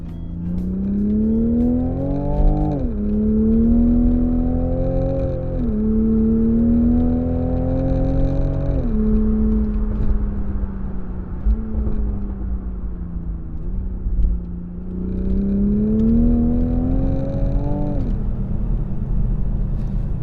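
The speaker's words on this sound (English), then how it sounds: "The Supra sounds okay, but not great, and the active sound amplification business works all the time regardless of the mode you're in" A 2020 Toyota Supra, its engine note boosted by active sound amplification, drones steadily while driving, pitch rising through several gear pulls and dropping at each shift before settling into a low rumble.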